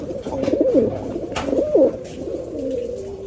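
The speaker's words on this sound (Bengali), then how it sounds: "এটা হচ্ছে আপনার ইন্ডিয়ান কবুতর মূলত মুসালদম কবুতর" Indian Musaldam pigeons at a pigeon farm coo in soft, rolling repeated calls, close and clear over a faint ambient background.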